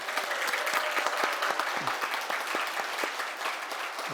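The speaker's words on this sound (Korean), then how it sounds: "박수로 환영합니다." A church congregation at a Sunday worship service applauds to welcome newly arrived mission workers, steady dense clapping filling the room throughout with a faint voice briefly underneath.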